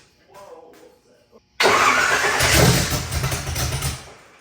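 A V8 engine fitted in a Honda CRX fires up abruptly after a quiet moment with soft talk, then runs loud and rough with an uneven, lumpy idle that slowly eases back.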